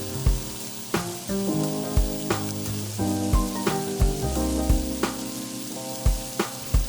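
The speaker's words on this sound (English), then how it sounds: "In a wok, we'll add our bacon and sausage mix and let it brown." Bacon and sausage mix browning in a wok, a steady close sizzle with repeated clacks and scrapes of stirring and tonal clanks throughout, no voices.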